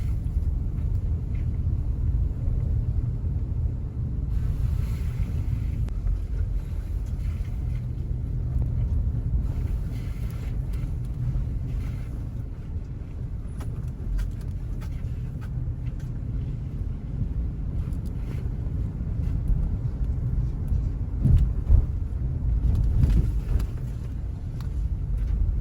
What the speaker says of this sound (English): You see the wind picking up.